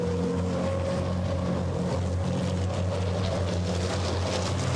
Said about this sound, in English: Tyre squealing, tyre roar, raucous engines.